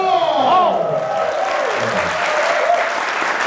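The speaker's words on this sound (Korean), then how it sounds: "다시 한번 박수 한번 드세요." Audience applause fills a talk-show studio, a dense steady wash of many hands clapping that holds loud for the whole stretch, with a faint voice briefly over the start.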